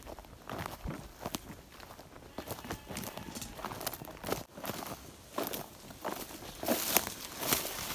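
Irregular snapping and crunching of sticks as cows tramp through brush, steady footfalls at moderate distance with no talking.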